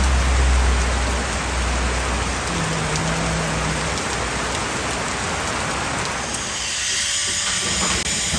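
Steady heavy afternoon rain falling outdoors, a loud continuous hiss that thins slightly toward the end, with no talk.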